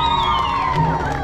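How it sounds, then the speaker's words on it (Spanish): A crowd at a restaurant in Mexico City shouts and cheers loudly in a brief, dense burst, with whooping voices layered over the din. "¡Los gritos!"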